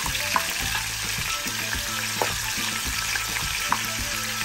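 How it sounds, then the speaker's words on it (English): A whole lobster tail frying in a cup of oil in a pan, a steady close sizzle with faint crackles and a few light knocks, alone without speech. "We're gonna fry this for about 3 minutes on the first side"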